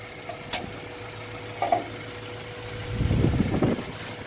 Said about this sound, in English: the engine sounds really calm now